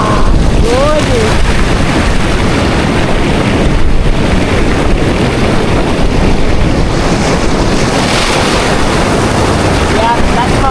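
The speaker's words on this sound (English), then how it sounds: "The waves are hitting the rocks and it's just causing these beautiful little waterfalls to flow in." Ocean waves crash against shoreline rocks at Wreck Rock in Deepwater National Park, Queensland, a loud continuous surf roar with heavy wind buffeting the microphone and a rising surge near the end.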